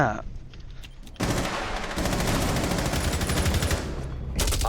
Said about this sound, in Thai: มันใช้ปืนกลหน้า